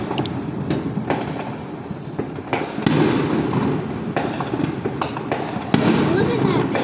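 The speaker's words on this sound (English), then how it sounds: "I've never seen that much fireworks before." Fourth of July fireworks in 2020 burst in a dense, continuous barrage, with sharp louder cracks near 3 and 5.7 seconds rising above a constant crackling rumble while people talk over the display.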